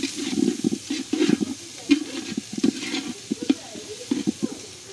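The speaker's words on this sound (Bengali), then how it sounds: "সবজিগুলো ভালো মতো ভেজে নিচ্ছি।" Vegetables being stir-fried on a clay stove, with bursts of sizzling and repeated scraping stirs in an uneven rhythm close by.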